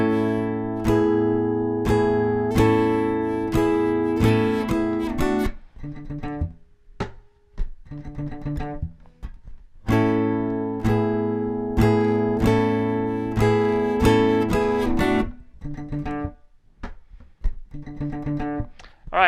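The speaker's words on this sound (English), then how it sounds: "We're back to the electric guitar riff at the end, which is slightly different than the beginning of the song." Electric guitar riff from the ending of a song, loud strummed chords in a choppy, stop-start rhythm with brief gaps, played alone with no voices.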